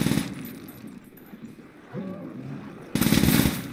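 PPSh submachine gun firing in Call of Duty: World at War custom zombies, with bursts of rapid automatic shots at the start and a louder sustained volley at the end, separated by quieter game sounds.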